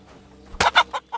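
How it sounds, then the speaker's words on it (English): A chicken in Kingdom Come Deliverance II gives four sharp, close clucks right after a soft thud from being punched, with a near-silent lead-in before the burst. "Bro, I just punched that chicken so hard,"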